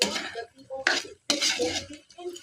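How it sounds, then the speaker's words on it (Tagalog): Shrimp being stirred in a pan with oyster sauce for a provincial-style shrimp dish: utensil scrapes and clinks against the pan in two bursts with a brief quiet gap, close and moderately loud. "Haluin natin."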